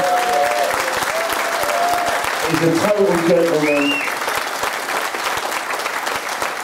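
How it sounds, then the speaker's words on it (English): Audience at an in-conversation event applauding a guest, a dense, loud round of clapping from a crowd, with a voice talking briefly over it partway through. "I want to give a big round of applause for Lee for giving up his time."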